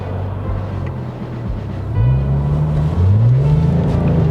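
A manual Porsche 996 Turbo with a 540 bhp power upgrade pulls hard on the road, its engine drone rising through the gears in two strong climbing sweeps, loud and steady from inside the car.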